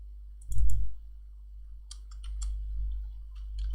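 A computer mouse clicks while web page code is edited: a sharp pair of clicks near the start, then a quicker run of light clicks and taps, close and isolated.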